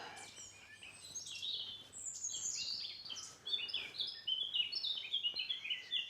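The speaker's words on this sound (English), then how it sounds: "So that loud one is a black cap" A blackcap sings a loud, bright warbling song in woodland at Woody Head, Bonchurch on the Isle of Wight, with rapid fluty phrases close by and fainter bird calls behind.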